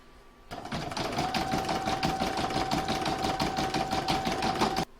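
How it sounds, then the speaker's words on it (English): Embroidery machine stitching round six of an in-the-hoop contactless bank card holder, a fast steady needle clatter with a faint motor whine, starting abruptly after a half-second of quiet and cutting off near the end. "I'm now going to pop that back into my machine and stitch round number 6"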